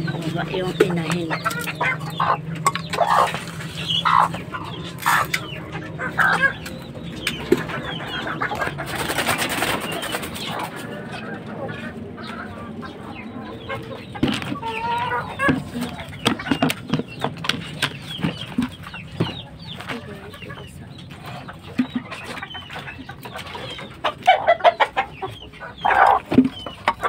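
Talisay gamecock hens cluck and call repeatedly amid a busy farmyard, with scattered wing flaps and a person talking now and then in the background.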